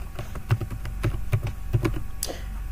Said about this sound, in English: So now I'm going to type in a password,